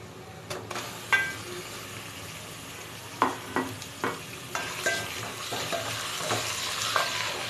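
Beef pieces added to golden fried onions in a pot, a rising sizzle punctuated by several sharp clanks and scrapes of a spoon stirring against the metal.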